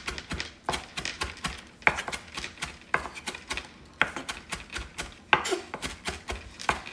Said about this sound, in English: I'm gonna chop it really thin.